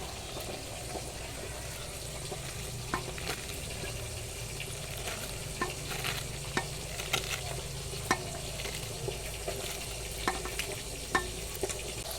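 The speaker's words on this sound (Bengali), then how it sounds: "এই যে বাকি মাছগুলোও আমি ভেজে নেবো" Fish frying in a pan of oil at home, a steady low sizzle running throughout with occasional soft pops and light utensil clicks, fairly quiet and close, with no voices.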